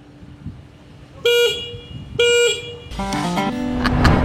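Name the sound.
WMOTO Morbius 250 motorcycle horn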